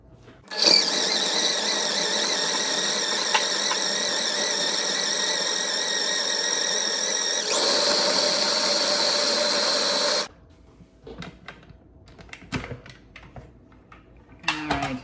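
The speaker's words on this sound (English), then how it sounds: "Ingredients in the blender, or I should say the food processor." A food processor blends salsa ingredients with cilantro in a steady, loud whirring run of about ten seconds that shifts to a higher speed partway through, then stops, leaving scattered clicks and handling sounds.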